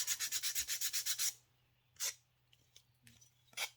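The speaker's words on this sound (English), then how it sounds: "let's just get that all sanded off." Sandpaper rubs over a handmade cell phone holder in a rapid run of about ten rhythmic strokes, then a few scattered, separate scrapes follow after a pause, close and moderately loud.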